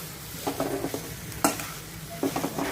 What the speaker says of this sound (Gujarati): સરસ મસ્ત વઘાર થઈ ગયો છે